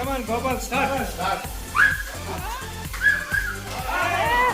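At a peanut game among longtime friends, a crowd whistles sharply and shouts in cheering bursts, with rising whistle notes and lively overlapping voices close by.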